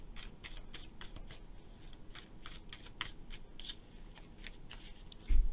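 Rapid riffling and soft slapping of tarot cards being shuffled over and over, close up and steady, with a brief louder knock at the end.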